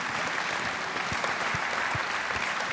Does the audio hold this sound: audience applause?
yes